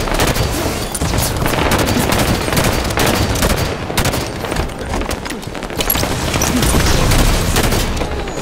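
Halo 5 Warzone firefight on the Darkstar map with a grenade blast and rapid gunfire, dense overlapping shots and booming impacts that crackle loud and close for several seconds with no talk.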